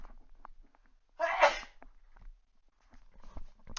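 A single sharp sneeze bursts out close to the microphone in a quiet room, with faint rustling and small handling sounds around it.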